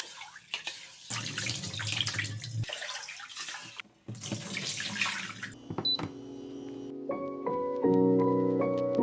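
Tap water runs into a kitchen sink while rice is washed, in two loud splashing bursts with a brief break between them, followed by music that rises and takes over.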